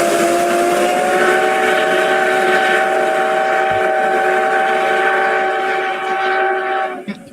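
Steam locomotive C61 number 20 sounds its whistle in one long, sustained, chord-like blast lasting about seven seconds, loud and close, cutting off abruptly at the end.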